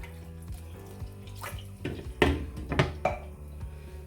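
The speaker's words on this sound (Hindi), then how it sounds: "इसको हम थोड़ा सा उठा के और पानी डालते हैं" Water poured into a pan of hot oil while cooking masar chawal, a traditional rice dish, bursts into a few sharp, loud sizzling splashes over a low background hum.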